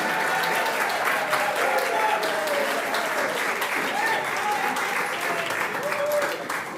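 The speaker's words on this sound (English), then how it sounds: "we'll give you a lovely round of applause" Audience applause at a team challenge grand final, a sustained warm round of clapping that carries on evenly before tapering slightly at the end, with faint voices beneath.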